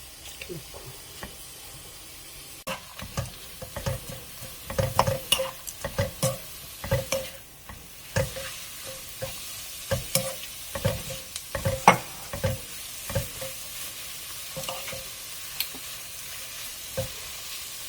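Oyster mushrooms stir-fried with onion and carrot in a pan, a continuous sizzle broken by repeated close spatula scrapes and knocks in an irregular rhythm.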